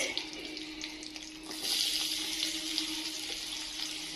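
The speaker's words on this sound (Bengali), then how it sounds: "ডিমগুলো তুলে নেওয়ার পরে আমি এই তেলে দিয়ে দেব পেঁয়াজ" Onion frying in hot oil left over from cooking eggs for an egg korma, a steady moderate sizzle that grows a little louder partway through, with faint clinks in the background.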